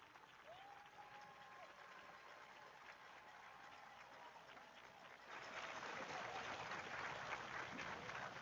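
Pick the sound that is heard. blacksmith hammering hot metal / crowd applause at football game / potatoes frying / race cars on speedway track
crowd applause at football game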